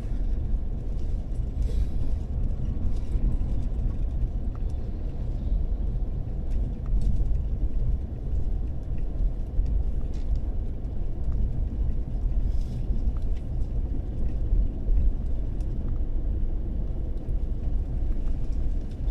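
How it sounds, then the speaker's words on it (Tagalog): A very large, heavily loaded truck rumbles along a road near Santiago, Isabela, a steady low-pitched roar and road noise continuing throughout without voices. "Kagaya nito, napakalaking truck."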